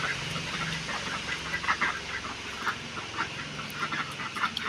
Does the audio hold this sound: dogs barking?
no